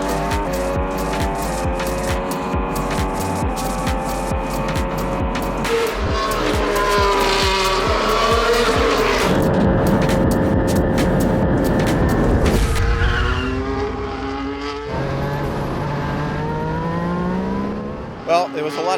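A Formula 1 car at Yas Marina Circuit screams loudly through its gears, the engine note rising and dropping with each upshift and downshift, heard close and continuous while someone talks over it.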